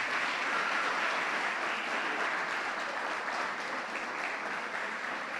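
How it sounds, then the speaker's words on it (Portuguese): Dense, sustained applause from a church congregation at an evening service, a steady wash of many hands clapping at full strength throughout with only faint voices beneath. "Um forte aplauso a Jesus nessa noite."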